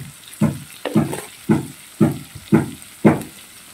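Peeled shrimp dropped into a hot pan, giving six evenly spaced bursts of sizzling splatter, each a sharp hiss that quickly fades, close and fairly loud with no voices.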